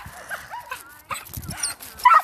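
Small dogs barking and yipping in short, high, uneven bursts, with a whimpering whine between, fairly close, ending in a louder sharp yap.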